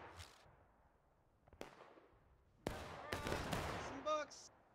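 Gunfire in War of Rights on the Bolivar Redoubt map: several sharp shots crack out one at a time, some far off and some close, and a voice briefly calls out near the end.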